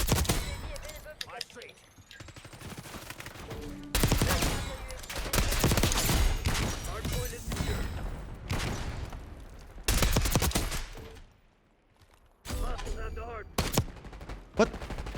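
AK74 fire in Black Ops 6 comes in bursts of rapid, loud automatic shots that crowd most of the stretch, broken by short lulls, including one near-silent gap before the shooting resumes.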